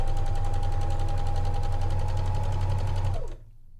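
A sewing machine runs a fast, steady basting stitch along fabric ruffle strips, its rhythmic mechanical whir humming close and continuous for about three seconds before stopping abruptly.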